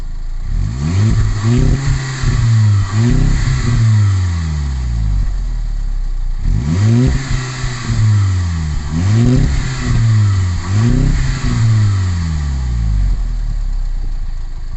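Volkswagen Golf 5 GTI engine, warmed up, accelerating repeatedly: loud revving sweeps rise and fall in several rhythmic pulls, with a pause midway before another series of surges, close and without talk.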